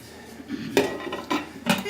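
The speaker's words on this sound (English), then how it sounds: "Let me get the lid." A metal lid is set onto a cooking pot of chicken with bay leaf and thyme, giving three sharp clanks and clatters against the rim, close and loud with no talking.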